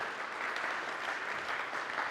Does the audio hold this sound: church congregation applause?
yes